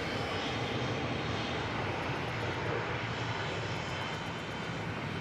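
Ryanair Boeing 737-800 landing at Manchester Airport from Milan, a dense, constant engine roar close by and evenly loud for the whole stretch, no voices.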